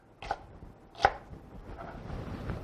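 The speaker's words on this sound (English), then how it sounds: "I'm just going to do a rough chop on those just to help them blend" Two sharp knife chops through serrano peppers on a cutting board, spaced about a second apart, close and crisp, followed by softer scraping sounds.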